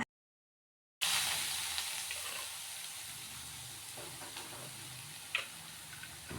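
Finely chopped large onions frying in hot oil with mustard seeds for an egg curry: a steady, close sizzling hiss that starts abruptly after a second of silence, with faint ticks and one sharper crackle.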